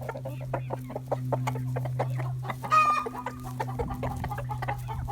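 Free-ranging chickens cluck steadily close by, with one bird letting out a louder squawk partway through, over a constant low hum outdoors.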